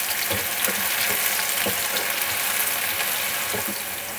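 Chopped onion and garlic sizzle and fry in a hot pan, a dense, steady crackle with a few soft stirring knocks under it, close and continuous.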